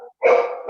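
A single dog bark, close and fairly loud, preceded by a faint short sound and then a brief pause before the bark.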